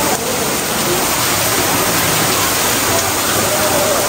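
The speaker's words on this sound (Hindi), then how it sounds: "देखें ये आबशार गिर रहा है ऊपर से" A waterfall at Watkins Glen State Park roars loud and close, a dense, unbroken wash of falling water that fills the whole stretch with no voices.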